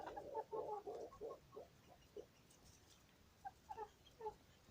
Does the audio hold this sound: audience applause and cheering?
no